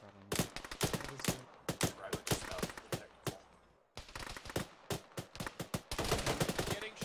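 Gunfire in a ShackTac video game mission: loud, sharp shots and quick bursts, some close and some overlapping, repeat in an irregular rhythm, pause briefly near the middle, then return in a heavier, more rapid stream.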